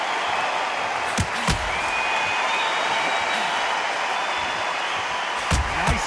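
A loud, continuous crowd roar in the boxing video game Undisputed, with a few sharp punch thuds and slaps cutting through near the start and end.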